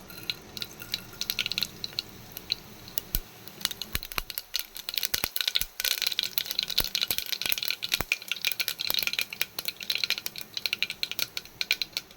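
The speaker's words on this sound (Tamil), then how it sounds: "எண்ணெய் காய்ஞ்சிருச்சு. கடுகு உளுந்து போட்டுப்போம்." Mustard seeds and urad dal crackle and pop in hot oil in a pan, a dense run of sharp close spluttering bursts with occasional metallic rattles, no voices.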